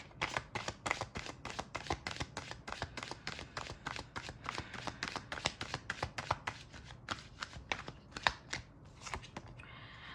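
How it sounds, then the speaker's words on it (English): A deck of oracle cards being shuffled close up, with quick repeated riffling bursts of crisp card slaps in an uneven rhythm for about ten seconds, no speech. "I'm going to take 5 cards, so let's see what message I get from the Wounded Masculine deck."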